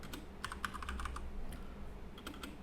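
Quick keystrokes on a computer keyboard as a search term is typed, irregular clicks in short bursts over a steady low room hum, close and fairly faint, with no talking.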